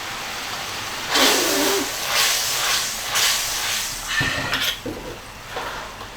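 Celery, two jin of it, dropped into a hot wok and stir-fried, giving a steady sizzling hiss in bursts with occasional metallic clinks of the spatula against the pan.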